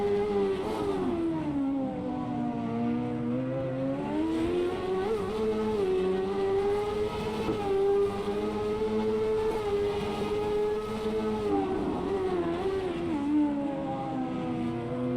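Cart-era race car engines in the Automobilista 2 sim racing game drone and rise with throttle changes, a continuous loud, near whine with shifting pitch and no talk.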